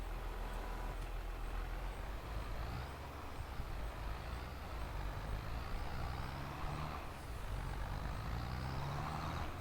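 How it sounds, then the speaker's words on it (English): A tractor in a farming video game drives through a forest with trees, its engine rumbling steadily and continuously, with slight rises in pitch as it moves. "let's see how the new tractor handles these trees"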